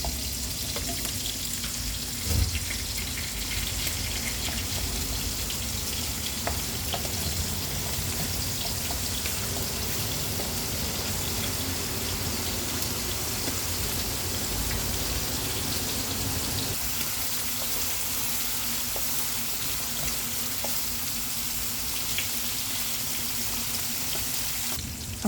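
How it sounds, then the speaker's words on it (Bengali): Spice paste fries in oil for an eggplant and potato curry with hilsa fish, a long, steady, moderately quiet crackling sizzle with a faint occasional clink, and no talking throughout. "মশলাটা ভালো করে কষিয়ে নেব, তারপর বেগুন দেব।"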